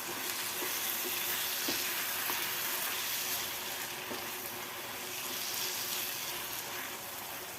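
Chicken coated in chicken masala frying in a pan, a dense continuous sizzle with scattered stirring scrapes and soft knocks, fairly quiet and steady throughout, no speech.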